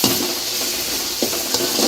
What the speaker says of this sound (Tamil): கேரட், பீன்ஸ், பட்டாணி நல்லா இதை வதக்கிக்கலாம்